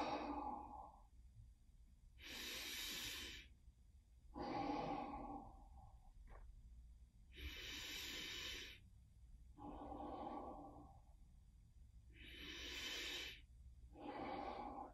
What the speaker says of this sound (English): as you breathe in through your nose, the belly expands. And as you breathe out